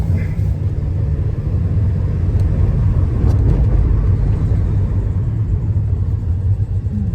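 A Nissan Micra K11 drives along with a steady, loud low rumble of engine and road noise heard from inside the cabin, continuous for several seconds without talking.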